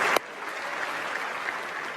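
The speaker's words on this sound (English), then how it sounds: "Let's give a big round of applause for Robert Flores." A conference audience at EA's E3 2015 press event gives sustained, even applause after a brief sharp clap at the start, the sound spreading evenly through the hall.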